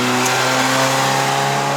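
A first-generation Perodua Myvi 1.3L engine revving under throttle on a mountain climb, a loud, steady droning hum heard from inside the car with no talk.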